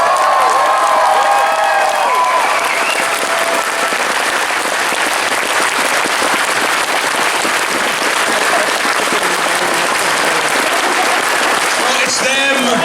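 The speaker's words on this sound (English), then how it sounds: "Can I just get a big round of applause for David for doing this as well?" Audience at the Auto Assembly 2015 closing ceremony breaks into sustained loud applause with cheering, a dense continuous crowd clapping that fills the whole stretch, with some voices mixed in near the end.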